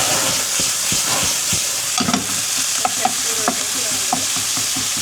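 Meat and garlic fry in a pan of oil with chili oil, a steady close sizzle broken by repeated clanks and scrapes of a spatula stirring, with no talking.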